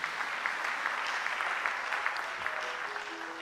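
A church congregation claps together in sustained, even applause that fills the room, steady and moderately loud throughout, with no voices standing out.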